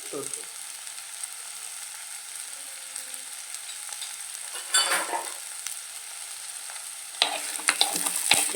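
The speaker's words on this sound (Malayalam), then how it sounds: "നന്നായിട്ടൊന്ന് വഴറ്റിയെടുക്കുക" Crushed ginger and garlic sauté in a pan with a quiet, steady sizzle, broken by a few louder bursts of stirring scrapes near the middle and end; no one speaks.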